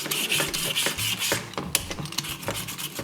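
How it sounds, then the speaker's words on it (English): Someone peels a potato with a speed peeler, producing repeated close, rasping scrapes in quick uneven strokes, with no talking. "So I'm just going to use a speed peeler."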